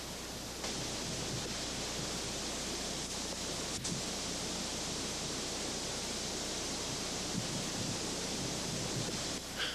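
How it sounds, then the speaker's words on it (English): Ocean surf washes continuously over an active lava flow entering the sea at Kilauea volcano in Hawaii, a dense, steady roar with wind noise and no clear breaks. "Every time a wave comes in,"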